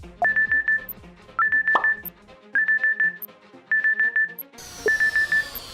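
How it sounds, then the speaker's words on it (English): Repeated electronic beeping melody from a phone, short bursts of tones in a steady rhythm, looping several times, close and clear. "the alarm rang on the smartphone"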